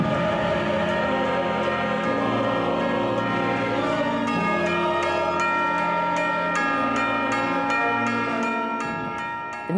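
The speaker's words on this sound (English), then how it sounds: "bells are chiming both close and far away" Church bells chime alongside a full orchestra during a staged performance of Puccini's Tosca, with rhythmic bell strikes recurring through dense, sustained orchestral sound for nearly ten seconds, some bells close and others distant.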